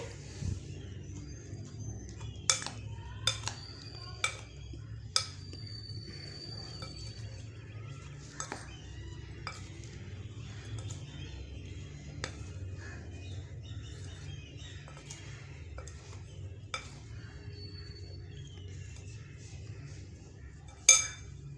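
Guava pakora batter being stirred in a bowl, with a spoon giving sparse, sharp clinks against the bowl over a quiet low hum, while faint bird chirps come from the background.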